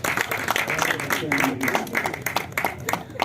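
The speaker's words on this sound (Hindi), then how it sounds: "जोरदार तालियां।" Loud audience applause at a Hindi theatre and poetry gathering for World Theatre Day, clapping bursts rising and falling, with a voice speaking over parts of it.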